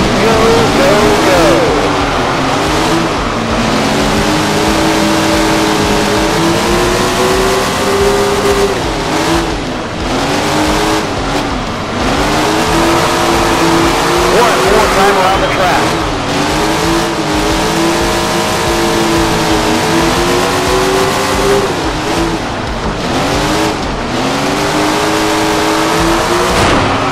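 Sprint cars race around Grant Park Speedway in a heat, their engines roaring loudly and continuously with repeated rising and falling revs as the pack laps close by.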